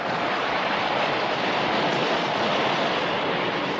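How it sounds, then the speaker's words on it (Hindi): Stormy sea waves crash and roar in a dense, continuous wash of broadband noise for an audio drama scene of a ship caught in an ocean storm, loud and steady with no voices. "कितनी ऊंची ऊंची लहरें हैं"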